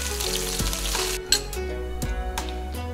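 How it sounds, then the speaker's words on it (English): Shrimp sauté in hot oil in a wok, a loud, steady sizzle up close, broken by a few clinks and scrapes of a utensil stirring against the metal. "it's been 3 minutes that I've been sauteing them"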